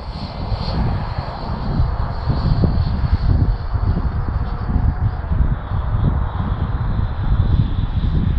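Small balsa scratch-built Gnat model jet with a little electric ducted fan flying on its maiden outing, a steady airy whine and rushing drone held at even loudness throughout, with some wind buffeting.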